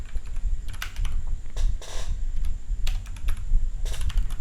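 Quick bursts of clicking keys on a computer keyboard, typed in short separate runs with brief pauses between, close and crisp with no talking.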